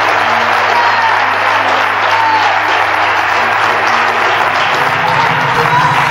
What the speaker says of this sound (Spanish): Denle un aplauso al Señor, pero déselo con todo su corazón.